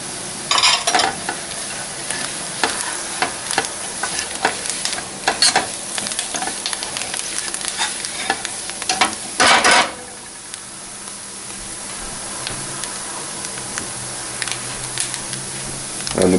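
Spices, coriander and peas fry in oil for vegetable samosas, a close sizzle with repeated scraping strokes of a spoon, the stirring stopping abruptly near the end, leaving a quieter hiss.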